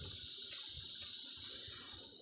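Goats resting on rocks outdoors urinate, making a steady hissing, splashing stream that is close and continuous for a couple of seconds.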